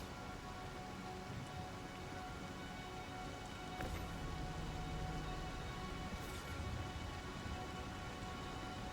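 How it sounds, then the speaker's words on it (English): Rain in a cargo video game, a steady hiss of falling rain across the whole stretch, with a couple of sharp cracks and no talk. "The rain makes it a hoot."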